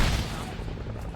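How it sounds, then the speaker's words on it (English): Arma 3 combat with grenade blasts and gunfire, a short loud burst of crackling shots and booms that fades slightly, with speech mixed in. "They're throwing grenades."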